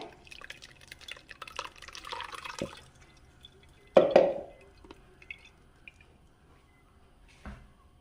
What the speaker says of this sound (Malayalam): അപ്പം ഞാനിത് കുക്കറിലേക്ക് അരിച്ചെടുക്കുവാണേ